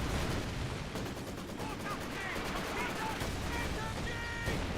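Mortar barrage and gunfire in the Company of Heroes 2 war game, a dense run of booms and rapid shots layered over a rumbling background, with a commentator talking over the battle.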